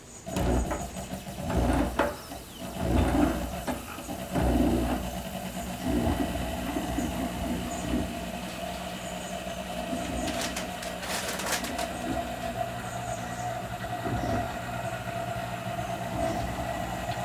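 A three-frame honey extractor spins frames of honey, giving a steady, droning mechanical whir with a faint rattle. The sound is continuous and fairly close, with no talk.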